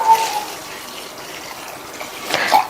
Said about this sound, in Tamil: தண்ணி சேர்த்து 2-3 தடவை நல்லா வாஷ் பண்ணிவிட்டு